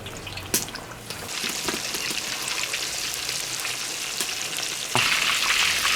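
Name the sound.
eggplant deep-frying in hot oil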